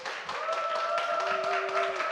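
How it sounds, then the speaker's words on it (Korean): An audience at a school curriculum information session claps in a steady, moderate round of applause, with a faint tonal hum running underneath. "박수로 보실까요?"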